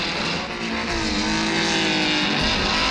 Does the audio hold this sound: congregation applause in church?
no